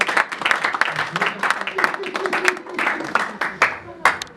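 A church congregation claps and cheers in praise during a healing service, with a lively crowd of applause running throughout while a voice speaks over it.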